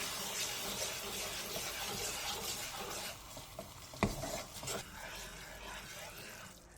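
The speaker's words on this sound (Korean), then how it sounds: "팬에 식용유 1스푼과 양념장을 넣은 뒤 센 불에서 바글바글 끓여주세요." A spoonful of cooking oil and a soy-based seasoning sauce bubble in a pan over high heat, giving a dense hissing sizzle. The sizzle eases partway through, with a sharp clatter and some stirring noises after it.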